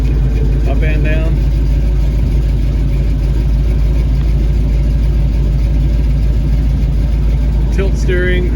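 A 1989 GMC Jimmy with a 350 HP crate 350 V8 and 700R4 transmission idles steadily with a deep, even rumble close by, while a voice briefly speaks over it near the start and the end.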